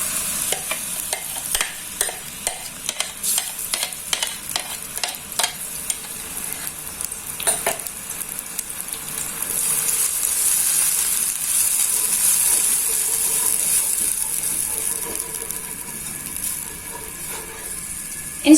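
Spice paste sizzling in a little hot oil in a wok, with rapid scraping stirs at first, then settling into a loud, steady frying hiss; no talking.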